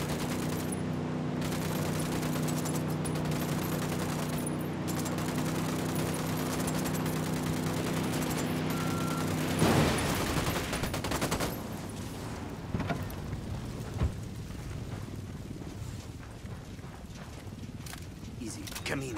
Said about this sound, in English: Open fire. Fire on these fuckers.